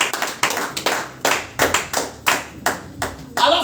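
Church congregation applauding during a Sunday service, a series of sharp rhythmic clap bursts in a reverberant hall, fairly loud, with no talking over it.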